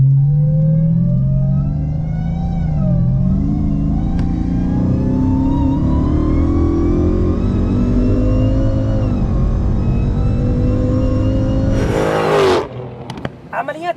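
A Chrysler 300C Hellcat engine, modified to about 1000 horsepower, revs hard, pitch climbing and swelling, then a sharp burst and crackle as it cuts off, with voices near the end.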